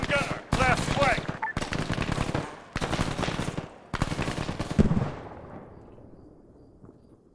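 Sustained machine gun fire in the military video game Arma 3, loud bursts crackling in several long strings separated by short gaps, then trailing off into a fading rumble.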